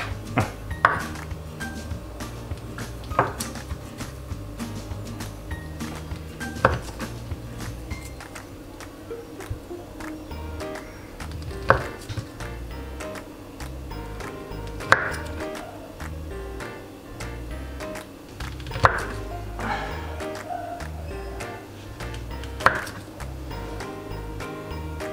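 A knife slices through Thai pork sausage on a cutting board, giving sharp, regularly spaced taps every few seconds over a low, quiet kitchen background, without talking.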